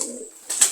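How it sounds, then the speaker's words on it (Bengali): A pigeon coos once on a farm housing pigeons of various breeds, a short low murmur followed by a brief brighter sound, close and alone. "আজকে আমি আপনাদেরকে আমার ফার্মের কবুতরগুলো দেখাবো।"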